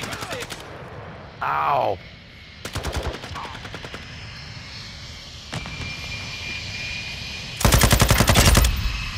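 Bursts of rapid automatic gunfire in a video game, loud and close, repeating in several volleys with an aircraft engine drone behind them and a short shout.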